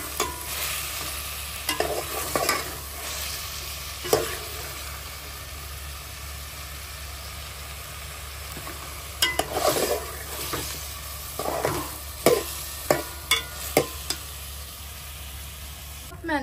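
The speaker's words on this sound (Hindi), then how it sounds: "मैंने इसमें ऐड कर दिया है टमाटर, जिसको थोड़ा सा भूनते हैं" Onion, tomato and spices frying in a pot for biryani, with bursts of spoon stirring and scraping over a steady background sizzle and hum, quieter stretches between the stirring.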